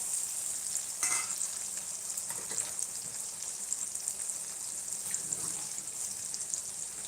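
Tomatoes with salt cook in a pan with a steady, fairly loud sizzle and frying hiss throughout, marked by a few scraping stirs. Chapati pieces are being turned into churma.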